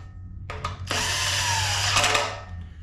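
Power tool whirring in short bursts as it runs engine cover bolts on a 5.3 V8 in a Bel Air, the loud drill motor starting and stopping close by with a brief ratcheting edge.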